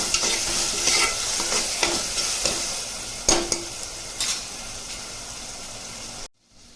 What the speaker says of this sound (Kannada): ಹಸಿ ವಾಸನೆ ಹೋಗೋವರೆಗೂ ಚೆನ್ನಾಗಿ ಫ್ರೈ ಮಾಡ್ಕೊಳ್ಳಿ.